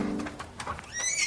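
A small black pony lets out a short, lively whinny, close and clear, lasting about a second.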